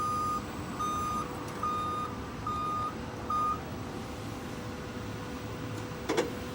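A Linde stand-up forklift drives in reverse, its reversing beeper sounding a steady series of evenly spaced beeps over a constant low motor hum, with a short clack near the end and no talking.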